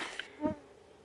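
Mosquitoes swarm close around a hiker pausing on a forest trail in early June, a faint high whine over a short soft thump.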